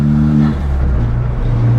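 A turbocharged Ford Fiesta ST engine on a custom track tune drones low and loud, its pitch climbing steadily as it accelerates and boost builds around 2,500 rpm, with a constant rumble underneath.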